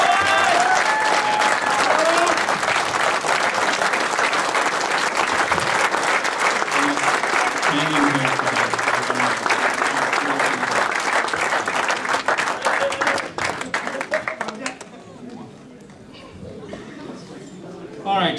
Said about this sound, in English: Gentlemen, a round of applause for Carter.